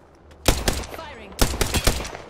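Gunfire in an Apex Legends match, two clusters of rapid, close shots separated by a brief pause, with a voice talking underneath.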